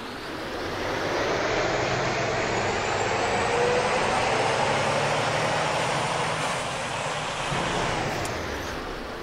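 A Freightliner truck engine in the Farming Simulator 19 video game drones steadily at a low pitch with a broad roar throughout, loud and continuous, the pitch shifting slightly as it moves.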